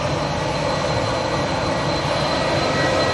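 An EasyJet airliner departs Manchester Airport, its jet engines producing a steady, broad roar that holds constant at moderate loudness throughout, with no talking.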